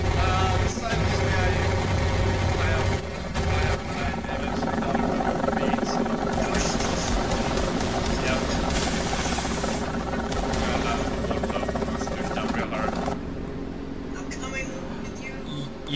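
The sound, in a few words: helicopter in War Thunder video game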